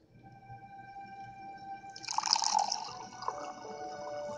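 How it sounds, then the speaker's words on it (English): Wine pouring into a glass in a film scene, a close liquid splash and trickle that swells for about a second, then continues more softly over a faint steady background. "there's something inherently funny about this wine pour scene"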